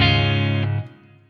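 A distorted electric guitar chord rings out through the Blackstar St. James amp plugin with reverb added. It holds loud for a moment, then is cut off and leaves a short, soft reverb tail.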